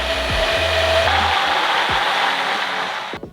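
An immersion blender whirs steadily as it is plunged into oil and egg for homemade mayonnaise, a loud close motor drone that holds for about three seconds and then cuts off abruptly.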